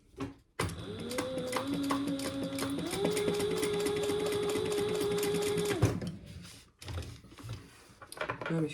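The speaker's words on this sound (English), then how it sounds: "My machine typically doesn't like to sew on cotton quilting, but because it's interfaced, it did fine." A sewing machine stitches interfaced cotton quilting fabric in a fast, steady mechanical run of about five seconds, with its pitch stepping up partway through, then stopping amid soft handling noises.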